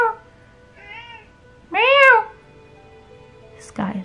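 A voice imitates a cat's meow a few times, drawn-out nasal mews with a pause between, close and clear, ending with a short noisy bump.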